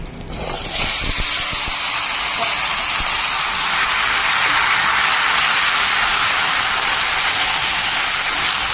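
Cut bottle gourd pieces dropped into hot oil with nigella seeds set off a loud, steady, hissing sizzle that starts abruptly and holds close and constant throughout.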